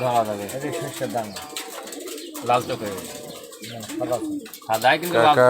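Domestic pigeons coo intermittently in low murmurs beneath frequent close conversation, the cooing surfacing in the pauses between voices.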